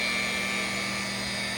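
A buffer polisher spins at about 1500 RPM on candy blue clear coat of a 1984 Chevrolet C10 stepside pickup, giving a steady, close, continuous whine with a constant hum underneath and no pauses.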